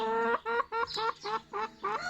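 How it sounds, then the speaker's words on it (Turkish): A hen cackles before laying an egg in a repeated series of loud, rhythmic clucks, close by and with no other sounds around. "Gördüğünüz gibi tavuğumuz da gıyıklıyor."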